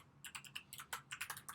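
Rapid typing on a computer keyboard, a quick run of about a dozen crisp close key clicks in an uneven rhythm, quiet and alone.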